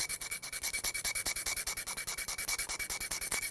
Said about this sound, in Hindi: थोड़ा रगड़ देते हैं ब्लेड से